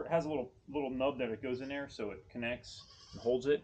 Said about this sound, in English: You can hear my goats going on in the background.